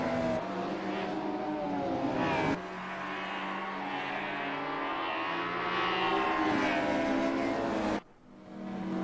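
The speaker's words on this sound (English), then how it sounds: "we hear the turbo flutter of the cars" Touring race cars at Wellington circuit, loud engines droning past with pitch sweeps and a sharp turbo flutter break, followed by another burst and a sudden drop near the end.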